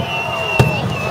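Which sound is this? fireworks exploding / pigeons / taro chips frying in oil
fireworks exploding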